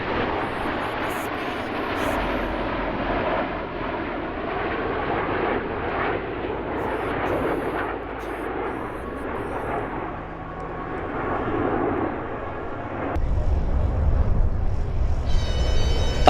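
Blue Angels jet aircraft make an airshow flyby in the PTFS video game, a sustained roaring engine rush that holds steady and then swells louder toward the end, with a faint tone near the close.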